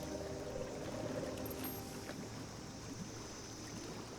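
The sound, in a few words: bubbling water in Fallout 76 video game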